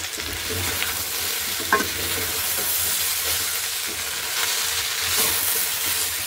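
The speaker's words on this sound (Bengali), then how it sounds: "ভালো করে এটাকে নাড়িয়ে দিচ্ছি, না হলে নিচে লেগে যাবে।" Mixed vegetables of potato, carrot, papaya, radish and onion stalks frying in a pan, with a loud, close, steady sizzle and the scrape of a spoon stirring throughout.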